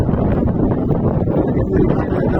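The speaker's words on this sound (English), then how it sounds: "We got a wind of gust of 30 to 40 miles an hour." Hurricane Idalia wind gusting at 30 to 40 miles an hour over a boat at anchor near Norfolk and Portsmouth, Virginia, roaring loud and close as continuous, buffeting rumble against the microphone.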